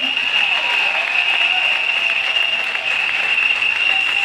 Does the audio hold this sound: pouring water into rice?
no